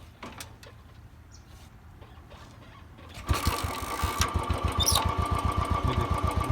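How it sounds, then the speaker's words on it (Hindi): Royal Enfield Bullet 350 motorcycle kick-started without throttle: a few quiet mechanical clicks and kicks, then the single-cylinder engine catches and settles into a loud, even, thumping idle close by. "बिना रेस दिए किक लगाएंगे आराम से"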